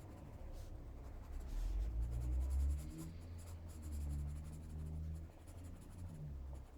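Colored pencils scratch softly across suede paper in short back-and-forth strokes, near and fairly quiet, with a low background rumble and no speech.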